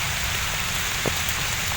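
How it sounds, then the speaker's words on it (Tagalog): Rain falls outdoors in a steady, dense hiss of drops on surfaces, even and continuous, with one faint knock partway through. "kasi umuulan na"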